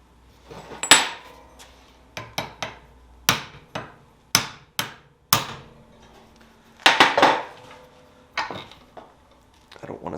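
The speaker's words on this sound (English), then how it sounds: "I'm going to try tapping on here with a hammer." A hammer taps on a nut threaded onto the tang of a dagger made from a ball bearing, held in a vise, giving about a dozen sharp metallic knocks at an irregular pace, some in quick pairs, loud and close.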